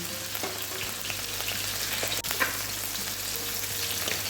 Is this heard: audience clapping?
no